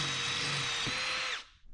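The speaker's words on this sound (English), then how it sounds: "drilling some holes in them" A power drill whines at high speed while boring through metal, a loud close grinding hum that cuts off abruptly near the end.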